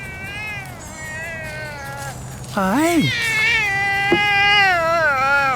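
A serval hybrid cat gives strange, warbling, alien-like yowls and rising-falling cries while eating a fish popsicle, loud and close, with a person briefly greeting it at the start.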